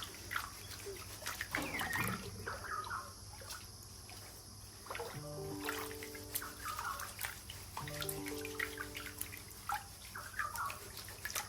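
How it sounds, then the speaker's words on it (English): Water swished and sloshed in a frying pan used as a gold pan, with a gold nugget sinker in it, giving a steady close trickling wash broken by vigorous shakes and splashy bursts. "Vigorous shake. Swish it around."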